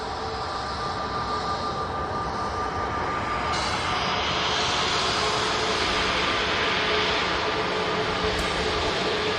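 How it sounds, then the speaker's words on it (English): Pegasus Airbus A320 arriving at Manchester Airport, a loud continuous jet engine roar and rumble that swells slightly partway through, with no voices. "Airbus A320 coming on in here"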